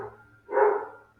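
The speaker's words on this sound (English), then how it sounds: "there'll be some noise coming from my house to your house as my dogs say hello" Several house dogs giving one short bark from another room, heard at moderate loudness against a quiet indoor background.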